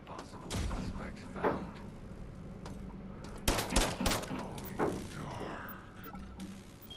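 Gunshots in the video game System Shock (2024): several loud, sharp cracks spread unevenly over a few seconds, set against ambient game rumble and clanks.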